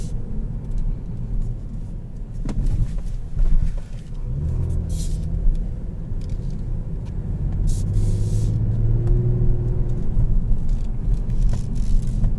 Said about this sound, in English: that new exhaust really sounds good